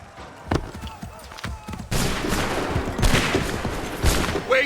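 Musket volleys crack out in Assassin's Creed 3 Remastered: a sharp report, then dense rolling bursts of gunfire from many muskets in quick succession, with shouted commands among them.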